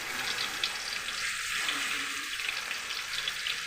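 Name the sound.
chicken frying in oil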